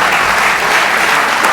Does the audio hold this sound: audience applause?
yes